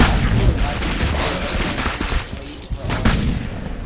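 Dense, loud gunfire from the video game Clive Barker's Jericho rattles continuously in rapid overlapping bursts, with no talk over it.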